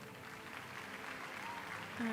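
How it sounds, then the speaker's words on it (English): Faint applause from an indoor cycling world championship audience forms a soft, continuous patter, mixed with speech. "we can see the audience clapping hands."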